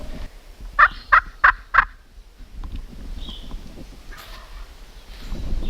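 A Rio wild turkey gobbler in Kansas lets out one rapid gobble of four sharp pulses, moderately distant, followed by quiet outdoor ambience with faint rustling.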